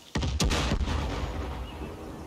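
Explosions and gunfire in the video game Far Cry New Dawn: a sharp blast followed by a second heavy boom, then a long rumbling decay fading out, close and loud with no talk.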